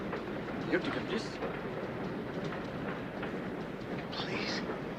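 Steady rumble of a moving train carriage on rails, constant broadband noise with faint clatter, heard from inside the car under quiet talk.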